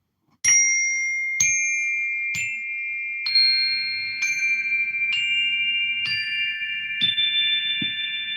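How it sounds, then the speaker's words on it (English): A Zen wooden bell struck with a mallet, about eight evenly spaced strikes roughly a second apart, each giving a clear ringing tone that decays slowly over a faint low rumble, close and moderately loud. "This is a Zen wooden bell or a mallet, basically."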